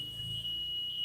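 A smart motorcycle anti-theft alarm, set off by a touch, sounds as a steady, piercing high-pitched electronic tone that holds unbroken at a moderate level.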